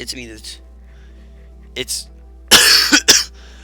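A person coughs a couple of times, harsh and close, after a few quiet spoken words.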